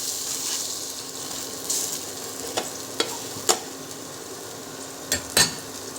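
Crispy besan omelette frying in a pan as it is flipped, a steady broadband sizzle with several sharp spatula-and-pan clicks scattered near the end, no talking.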